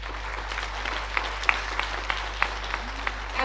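An audience at an international child protection conference claps for the children, a steady, fairly soft patter of many hands with a few louder individual claps standing out, heard alone with no talk.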